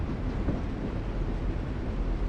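A train rumbles in The Walking Dead video game, a dense low steady roll of wheels and carriage noise with faint rattles, continuous and fairly loud.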